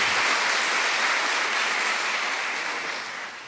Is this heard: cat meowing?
no